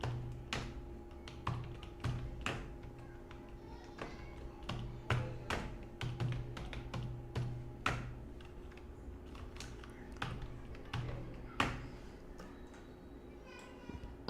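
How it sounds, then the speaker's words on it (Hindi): Typing on a computer keyboard comes as irregular bursts of close, light key clicks and taps, with a few louder keystrokes, running steadily and quietly throughout. "नाम कुछ इस तरह से टाइप किए मैंने।"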